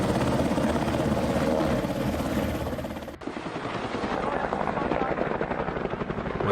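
Loud, close helicopter rotor thumping and engine roar throughout, with an abrupt shift partway as the sound changes character and continues steadily.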